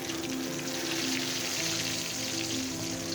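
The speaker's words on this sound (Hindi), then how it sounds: "इस तरह मैंने तेल डालकर 5 कबाब डाल दूँगी इसमें तलने के लिए, फ्राई होने के लिए" Five shami kebabs fry in oil in a pan, giving a loud, dense, continuous sizzle and crackle close up, with a low background hum and no talking.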